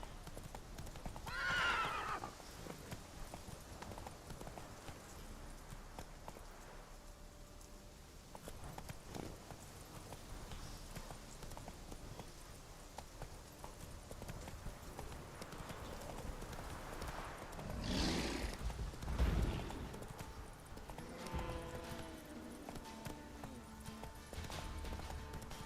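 Roach, the horse in The Witcher 3: Wild Hunt, gallops with steady, continuous hoof clip-clop under game ambience, with a whinny near the start and a louder neigh and snort around two-thirds through.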